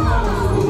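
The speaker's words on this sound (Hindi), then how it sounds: "शाही दशहरे का जोरदार भीड़, एकदम लाखों की भीड़ है भाई" Huge crowd at the royal Dussehra celebration in Bhilai with Ramlila and Ravan burning, a dense, continuous roar of many voices and shouts, steady and close throughout the short moment.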